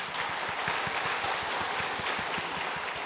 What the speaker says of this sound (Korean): 잠깐 자리에 인사하실 때 우리 박수로 축하하도록 하겠습니다